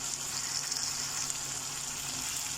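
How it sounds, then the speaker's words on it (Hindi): Spices sizzle and fry with curd (yogurt) in a pan while cooking lobia, a soft, steady hiss that stays quiet and even throughout with no talking. "अब दही के साथ मसाले को भूनेंगे।"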